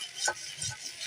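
Noodles being stirred in a frying pan give a brief scrape and a soft sizzle, with one quick utensil stroke over a steady hiss, close and fairly quiet.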